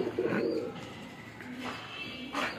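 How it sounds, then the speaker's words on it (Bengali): Pigeons of several flying breeds kept at a loft give low, murmuring coos in a few short phrases nearby, over steady ambient hum. "বিভিন্ন জাতের কবুতর আমরা এখানে দেখতে পাইতেছি।"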